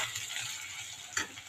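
Four kinds of vegetables, including onion and cabbage, fry softly in a pan for chowmein, giving a faint continuous sizzle with a brief stirring scrape near the end.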